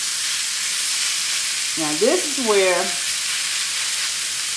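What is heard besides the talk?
meat frying on a griddle with onions for Philly cheesesteak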